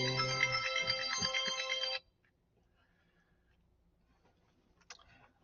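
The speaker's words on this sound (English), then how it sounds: "let me stop my phone from ringing." A phone ringtone rings loudly and close for about two seconds, a bright repeating electronic melody, then cuts off abruptly and leaves near silence with a faint click near the end.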